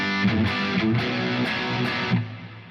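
Distorted electric guitar with reverb plays repeated chords and notes, heavily saturated and sustained, alone and fairly loud.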